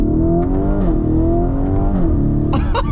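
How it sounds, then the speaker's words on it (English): A 2023 Lamborghini Urus S engine revs hard, then drops pitch through two upshifts, each with a brief blat, before a burst of crackling backfire pops near the end, loud and close. "This little kind of blat with these backfires."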